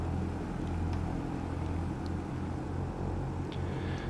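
A steady engine drone of a Beech Duchess 76 twin-engine light aircraft, as modeled in a flight simulator, holds at a constant moderate level on the runway at the start of its takeoff roll.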